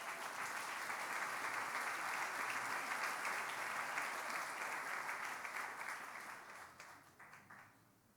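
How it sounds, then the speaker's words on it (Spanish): A church congregation applauds steadily and loudly for several seconds after a preacher's call to clap, the dense clapping thinning and fading toward the end. "Démosle un aplauso al Señor"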